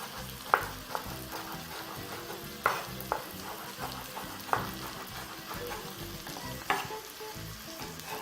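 Diagonally cut carrots go into a hot pan for a matoke stew with meat and spinach. A steady, close sizzle of frying runs throughout, broken by occasional sharp clacks of a utensil against the pan.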